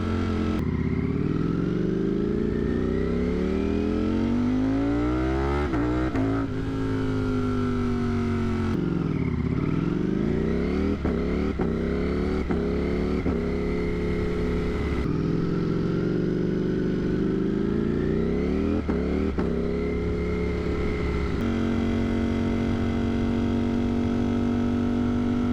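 A 200+ horsepower motorcycle with a loud aftermarket exhaust roars close by while riding, its engine note rising and falling through repeated gear changes and revs, alone without talk.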